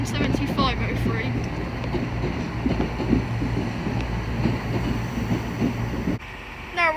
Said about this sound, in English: Now arriving is the 1315 Transport for Wales service from Chester to Crewe, 153325